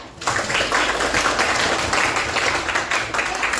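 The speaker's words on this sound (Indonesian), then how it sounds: "Beri tepuk tangan yang meriah." A burst of dense, steady clapping from a class of students, close and loud, sustained for a few seconds.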